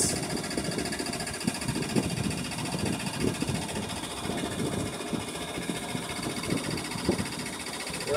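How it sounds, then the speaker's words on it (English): A small homemade inboard motor runs flat out on a little boat, a steady dense mechanical drone with a fast rattling chatter that holds constant throughout, close and fairly loud with no talk. "we're gonna just do full throttle for a minute and see how fast we're gonna go with this little motor"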